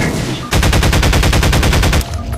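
A loud, rapid burst of automatic gunfire in a video game, fired at melons, rattles continuously for about a second and a half and then stops abruptly.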